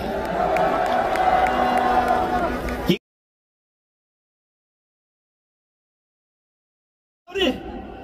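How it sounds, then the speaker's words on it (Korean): A rally crowd applauds and cheers for monks at an outdoor gathering opposing a presidential impeachment, a loud dense roar mixed with voices for about three seconds before cutting off, then briefly resuming near the end. "뜨거운 박수를 보내주시기 바랍니다."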